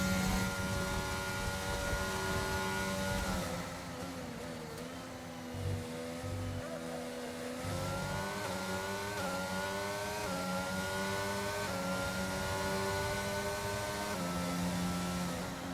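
Several Formula 1 cars race past in the F1 22 video game at the Canada circuit, their high-pitched engine whine rising and falling steadily as they approach, continuous and fairly loud.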